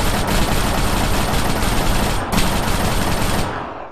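Sustained automatic gunfire in the military shooter game ARMA 3, a dense, loud, continuous burst of rapid shots lasting several seconds before cutting off, with no talk over it.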